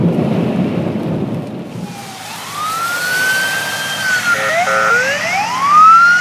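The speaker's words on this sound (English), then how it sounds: "Ambulance just showing up in this accident by the airport off of Highway 97" Rain pours at a highway accident scene near an airport, with wet traffic rumble, and then an ambulance siren rises and wails as it arrives, sweeping up and down with a yelping burst, growing louder over the downpour.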